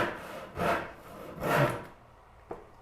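Hand saw, an 11-point blade, cutting through a small chunk of wood: two long, loud rasping strokes, near, followed by a brief knock.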